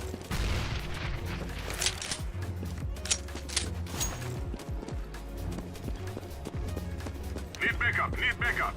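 A grenade explosion and gunfire in the video game CS:GO, sharp repeated gunshots and impacts scattered through a busy game soundscape with voices speaking over parts of it.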